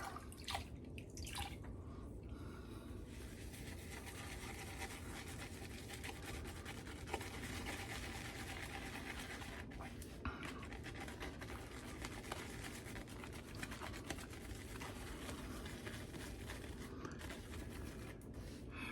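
Shaving soap from the Sterling Soap Company is worked into a lather for a straight razor shave, giving a steady wet, squishy brushing and dripping close by, continuous and alone with no talking.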